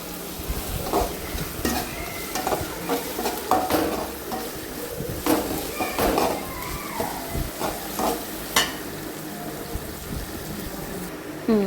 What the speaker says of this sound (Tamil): இன்னும் கொஞ்சம் கிண்டி விடணும் இன்னும் கொஞ்சம் கிண்டினா இன்னும் நல்லாயிருக்கும்